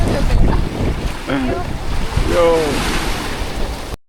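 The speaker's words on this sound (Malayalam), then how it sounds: "ബോട്ട് വരുന്നു" A boat approaches across open sea off Kalpeni Island in Lakshadweep, its low rumble blended with steady surf and wind buffeting the microphone, while voices talk briefly over it.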